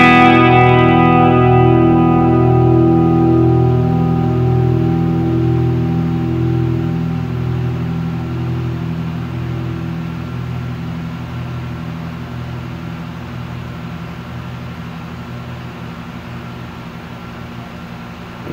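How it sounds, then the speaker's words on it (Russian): A Gibson Les Paul Traditional electric guitar rings out a clean-tone chord that sustains and slowly fades over nearly twenty seconds, loud and alone with a touch of reverb. "Давайте проверим ее на сустейн, на чистом звуке."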